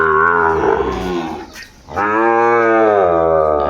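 A Sahiwal cow moos loudly and nearby at a Netrokona cattle farm, one long drawn-out call, then a short pause, then a second sustained moo.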